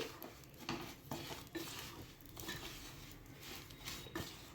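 Grated coconut and fenugreek powder being stirred together in a pan, with soft scraping and light clinking of a spoon against metal, faint and irregular.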